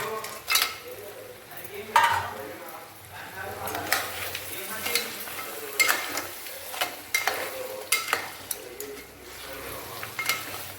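Crabs being stirred in masala in a pan, repeated scraping strokes and metal clinks over a continuous sizzle, close and fairly loud, with no speech.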